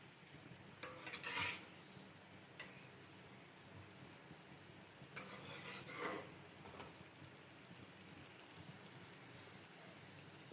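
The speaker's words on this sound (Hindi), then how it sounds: "अब जो कीमा हमने बॉईल करके साइड पे रखा है वो डाल दूँगी मैं" Boiled minced meat tipped into a pan with bitter gourd, then stirred, giving two bursts of scraping and clattering against the pan over a soft steady background.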